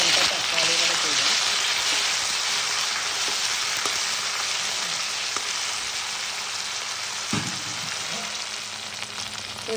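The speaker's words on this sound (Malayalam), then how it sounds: "വെളിച്ചെണ്ണ ചൂടാകുമ്പോൾ തന്നെ നമുക്കതിലേക്ക് വെണ്ടയ്ക്ക ഇട്ട് കൊടുക്കാം." Okra fries in hot coconut oil, a loud, steady, close sizzle that hisses on without a break, with a few faint clinks of stirring.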